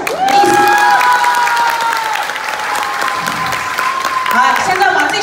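Audience at a Women's Day commendation banquet in Nangan, Matsu, clapping loudly and steadily with some cheering, while a voice speaks over the applause.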